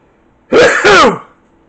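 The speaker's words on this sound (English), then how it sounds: "I gotta sneeze." One loud, close sneeze in two quick parts, a sharp voiced burst that trails off into quiet.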